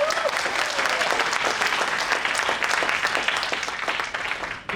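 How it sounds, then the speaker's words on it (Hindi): A seated audience bursts into loud, sustained applause, dense clapping that holds steady for several seconds before tapering slightly at the end. "तालियां होनी चाहिए।"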